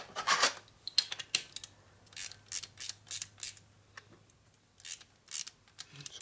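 A ratchet tightening the flywheel lower end of a 1997 Harley-Davidson Evolution 80 cubic inch engine: short bursts of quick metallic clicks with pauses between strokes, close and clear, over a faint steady hum.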